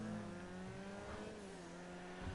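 A car engine in a video game holds a steady, buzzy hum with a rising whine, close and unbroken, its tone rough and motorcycle-like with a faint pitch swell partway through.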